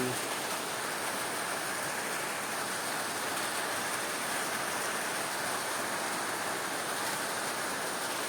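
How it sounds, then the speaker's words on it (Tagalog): Steady rain falls continuously, a dense even hiss of drops spread across the whole stretch with no pauses or breaks. "Oh, tingnan nyo. Malakas ang ulan ngayon."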